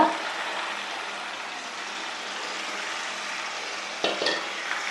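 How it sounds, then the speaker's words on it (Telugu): Onions and a brinjal masala mixture frying in a pan, a steady hiss of sizzling oil broken near the end by a clatter and louder burst as more ingredients hit the pan. "ఇప్పుడు వేగిపోయింది కాబట్టి ఉల్లిపాయ ఈ వంకాయ మిశ్రమం అంతా వేసేసుకోవాలండి"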